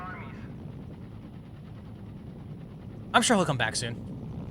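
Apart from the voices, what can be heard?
American Apache helicopter in video game Mercenaries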